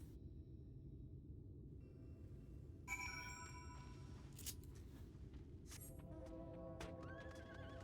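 Horse neighs in the Final Fantasy XIV game world, a bright whinny rising clearly midway, backed by steady clip-clopping hooves and soft ambient game noise, with no talking.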